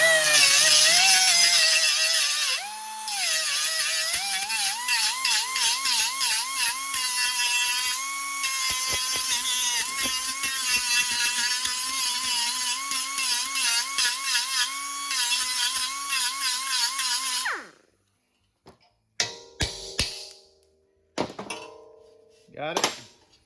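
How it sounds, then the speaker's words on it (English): A power grinder works rusty metal on the rear body crossmember of a HEMI-powered 1928 Ford Model A coupe, a loud sustained whine that dips once, then cuts off, followed by a few clanks and knocks. "It won't matter how much I grind on that."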